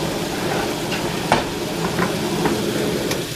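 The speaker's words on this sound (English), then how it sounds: "Steak is cooking. I put some butter on there." A steak sizzles in butter in a pan, a steady close crackle with a few light clinks and stirring taps over constant background fan noise.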